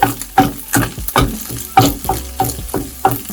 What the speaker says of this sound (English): Try to break your eggs into small pieces.